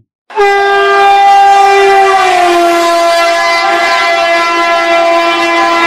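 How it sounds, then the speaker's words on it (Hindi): A loud, sustained locomotive horn blares close by, its pitch sliding downward as it passes, holding a rich harmonic tone for several seconds. "लोकोमोटिव सायरन जनरेट करता हुआ ऑब्जर्वर की तरफ आ रहा है और उसको क्रॉस करता है"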